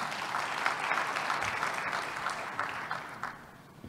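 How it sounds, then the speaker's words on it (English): Delegates at a conference panel on national food systems give a round of applause: sustained, even clapping from a seated audience, moderately loud and filling the room without voices. "Please, can we give him a round of applause as well?"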